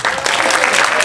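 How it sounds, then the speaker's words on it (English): Theatre audience applauding at the curtain call of a ballet and music performance, a dense, loud wash of clapping filling the whole stretch with a few voices faintly mixed in. "Sous vos applaudissements,"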